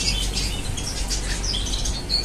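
Pet birds squawking and chirping continuously in an aviary, bright overlapping calls over a steady low background hum.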